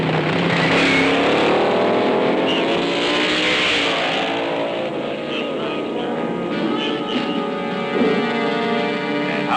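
A 1965 fuel dragster with an engine of over 1,000 horsepower roars continuously at a drag race, a loud, steady, harsh engine howl that fills the whole stretch.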